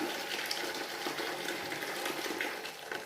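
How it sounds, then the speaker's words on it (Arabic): Hot water poured into a cooking pot while preparing a homemade set yogurt, a steady close splashing gush running for about three seconds with no talking. "غنديرو فيها الماء سخون"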